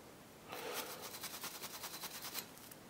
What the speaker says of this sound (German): Ich mache gerade die Bremsbeläge etwas sauber